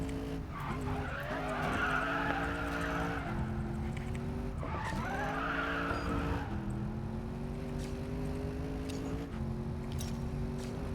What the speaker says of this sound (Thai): เสียงเครื่อง